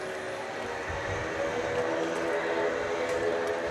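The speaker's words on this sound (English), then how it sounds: "Got a couple of Cessna Grand Caravans in the mix." A Cessna Grand Caravan single-engine turboprop at DFW airport at night, heard as a steady, moderately loud propeller drone with broad engine rumble throughout, with no talk over it.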